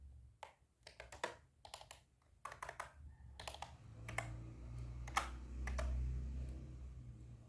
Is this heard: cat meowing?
no